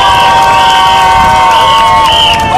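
Loud crowd at an outdoor Korean National Assembly election campaign rally in an innovation city, cheering and shouting over amplified music as a candidate is welcomed, sustained and close.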